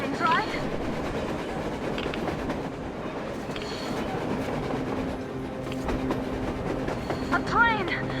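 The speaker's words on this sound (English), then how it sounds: "A train! A damn train on the surface!" A train passes on the surface during a blizzard in the video game Metro Exodus, a continuous rumbling rail clatter under howling wind, with brief high squeals and shouts near the end.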